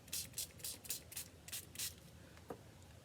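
A handheld spritzer sprays water onto an alcohol ink card in a rapid series of about seven short, close, hissing bursts, followed by one brief sharper puff near the end.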